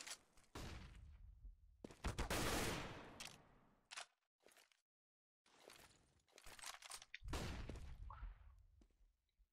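Gunfire from a crossfire during a CS:GO match on the Inferno map: several bursts of close shots, a loud sustained volley and scattered single cracks separated by brief silences.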